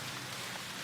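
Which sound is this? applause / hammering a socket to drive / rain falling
rain falling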